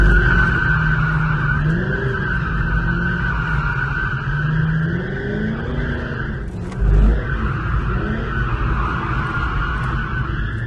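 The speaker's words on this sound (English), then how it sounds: "I'm gonna try with the donut around this guy." A C5 Corvette spins donuts on worn tires, producing a loud, continuous tire squeal over a steady engine drone. A brief low thump sounds near the middle, and no one speaks.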